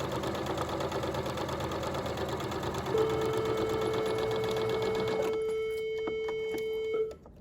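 A sewing machine runs steadily while stitching a straight French seam at 2.5 stitch length, a close, even mechanical whir that stops near the end and is followed by a few soft clicks.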